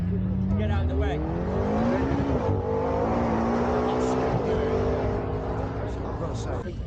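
A Mustang makes a run down a drag strip at Sturgate, its engine rising in pitch through the gears and easing between shifts, heard from the sidelines while spectators talk over it.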